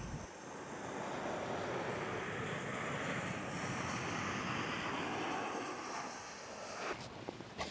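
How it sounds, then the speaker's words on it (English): Heavy rainfall beats steadily on a tent canopy in a dense, unbroken roar that stays constant for several seconds and eases slightly at the very end. "Meteorologist was right. Heavy rainfall."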